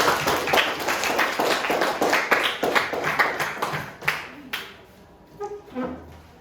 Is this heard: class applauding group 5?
yes